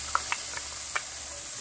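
Soft, steady sizzling of bacon frying in a hot Dutch oven, with a few brief crackles and pops, fairly quiet and close.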